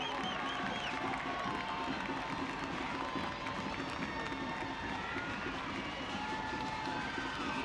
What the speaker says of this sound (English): The crowd trying to urge Phoenix on here.